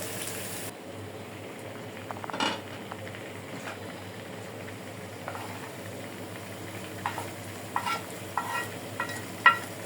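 Prawns, onion and garlic sizzle steadily in a hot pan, a constant close frying hiss with occasional scrapes of stirring, no voices.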